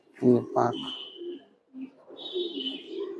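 Tournament-flying pigeons at a keeper's house coo in short, throaty bursts near the listener, a couple of strong calls early followed by softer murmuring coos with brief gaps between.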